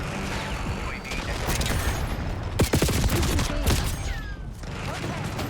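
Gunfire in Call of Duty: Black Ops 6 multiplayer, rapid bursts of shots with a louder cluster midway amid mechanical game sounds, with a voice talking over it.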